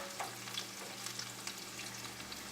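Spinach and tomatoes sauté in a hot pan, giving a steady close sizzle and frying crackle with light stirring noises and no talk.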